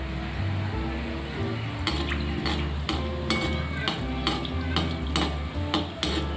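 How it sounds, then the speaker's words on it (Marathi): Gulab jamun fry in oil as a slotted spoon repeatedly scrapes and clinks against the pan, ladling oil over them, with a continuous low sizzle and hum beneath the sharp metallic taps. "आपल्या झाऱ्याने हळूहळू प्रत्येक गुलाबजामवर तेल टाकायचं"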